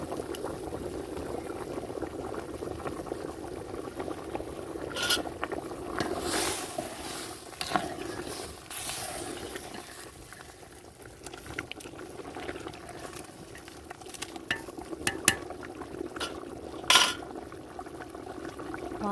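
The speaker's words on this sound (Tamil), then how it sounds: "நல்லா கொதிக்குதுங்க." A pot of water boils hard on a lit stove, with continuous bubbling and occasional sharper pops and splashes at a steady, moderate level.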